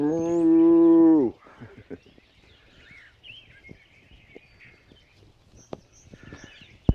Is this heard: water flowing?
no